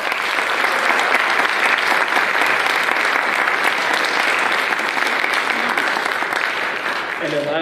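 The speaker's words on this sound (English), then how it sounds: "Would you please give them a round of applause?" An audience at a student jazz lab and orchestra concert at Cienega High School claps for several seconds. The applause is loud, dense and sustained, and it thins slightly near the end.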